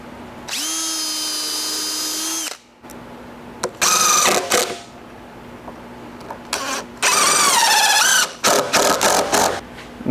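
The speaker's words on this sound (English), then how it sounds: "we'll use 4 1¼ inch screws and 2 3-inch screws to permanently fix it" A power driver whines as it drives screws into wood, in two long runs and several short bursts, close and loud with no talk, while a rack for drying paint is assembled.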